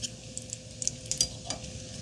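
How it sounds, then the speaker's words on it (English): Bacon pieces frying in a frying pan give a soft, close sizzle, broken by a few light scrapes and clinks of a utensil stirring, all quiet and brief. "Once our bacon is sufficiently cooked off, we'll pull this out the frying pan"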